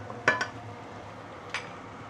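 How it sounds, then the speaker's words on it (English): Braised fish with chili being stirred in a pan, with two quick utensil scrapes close together near the start and another a second later over a low, steady sizzle. "Give it a few stir."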